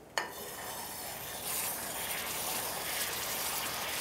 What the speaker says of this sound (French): on a le jus qui réduit très très vite